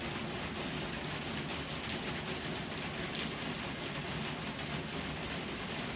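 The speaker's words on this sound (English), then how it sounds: "So in the evening while it's raining outside, I get on with sewing these squares together." Rain falls outside during an evening storm, a steady, dense hiss that stays even and unbroken, moderately quiet and heard from indoors, with no talking.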